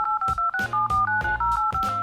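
Phone keypad dialing tones as a number is typed on a smartphone, a quick series of about nine distinct dual-tone beeps in an even, close, clear rhythm with no talk.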